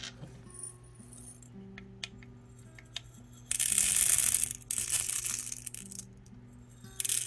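Small beads pour through an angle-cut funnel into a small tube, a bright rattling cascade in two bursts with a soft trickle between, close over a faint steady background hum.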